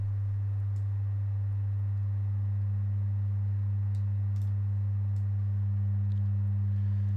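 A steady sine test tone with a stack of added harmonics, processed through the Airwindows Inflator audio plugin, holds unchanged and alone for the whole stretch, with no voices.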